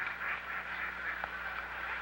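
Ducks at the Jack Miner bird sanctuary give faint, distant quacks, several overlapping in a steady low chatter over soft outdoor background noise.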